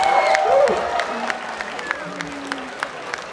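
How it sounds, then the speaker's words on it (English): An audience at a comedy show claps and cheers for a volunteer, applause fading out over a few seconds while a voice and scattered sharp claps continue. "Let's give him a round of applause."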